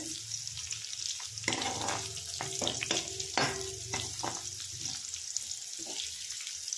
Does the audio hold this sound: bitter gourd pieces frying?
yes